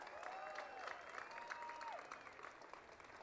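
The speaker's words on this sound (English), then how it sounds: "Let's give them a big applause." An audience at a pro-life gathering applauds, with faint, distant clapping spread across a large room and a brief tonal whine over it.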